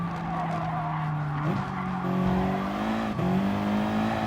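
Racing cars in a video game, including a Ferrari: a steady engine drone with pitch shifts at gear changes, overlaid by prolonged tyre squeal and skidding.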